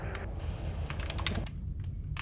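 Quick bursts of computer keyboard typing during a session of the game Duskers, close clicky keystrokes in uneven runs with a brief pause before a few final taps.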